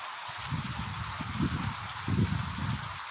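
Rain falls steadily over the village of Vejodari, a constant broad hiss with low, uneven rumbling swells coming and going beneath it.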